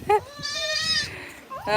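A young goat kid bleats in a few wavering cries, close and clear, with soft background voices and household noise around it.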